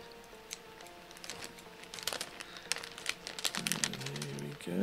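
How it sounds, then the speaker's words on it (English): Scissors snip and crinkle through an anti-static bag holding a Renesas EK-RA6M4 evaluation kit, a quick series of close crisp cuts and plastic rustles. "use our trusty old scissors to get inside here"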